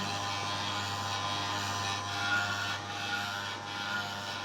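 A small electric 220V peanut oil press with a stainless steel body runs continuously, giving a steady mechanical drone with a faint tonal whine, close and unbroken.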